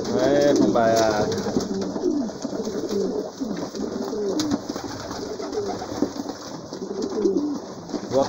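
Dense cooing of many pigeons fills a pigeon loft, soft throaty rolling calls overlapping close by, louder at the start and steady throughout.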